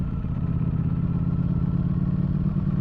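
A Ducati Streetfighter V4S on its stock exhaust idles or runs at low steady revs, giving a deep throbbing, lumpy rumble close by that holds evenly throughout.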